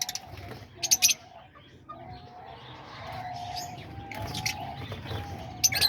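A room of caged lovebirds, diamond doves, budgies and cockatiels with many babies. Scattered sharp chirps and tweets jump out over a constant low murmur of cooing and chatter, with several loud bursts near the start and end.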